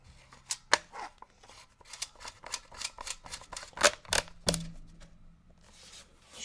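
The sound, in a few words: fitting a magazine extension onto a semi-auto shotgun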